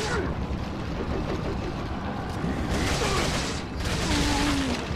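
A tuned-up submachine gun in Resident Evil 4 fires in rapid, rattling bursts, loud and close, blended with clanking game effects and a brief lull midway.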